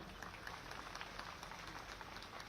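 Steady, faint audience applause at an official state ceremony where the Chief Minister presents a memento, a dense even patter of many hands continuing throughout with no pauses.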